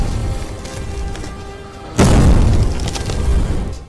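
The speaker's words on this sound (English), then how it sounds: "pour it on a small empty suitcase, and then hit it with a baseball bat with all your strength" A baseball bat slams into a small empty suitcase covered in sand, making a Superman landing effect: one loud, deep boom midway through after a low rumbling lead-in, then decaying.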